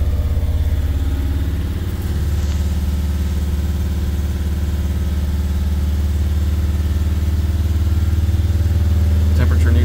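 A Mercedes Sprinter T1N diesel engine with a repaired injector leak holds a steady raised speed around 2200 RPM, a loud, continuous close drone with a deep hum and no pauses.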